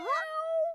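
One short, clear cat meow, rising sharply then holding a steady tone before cutting off, close and alone.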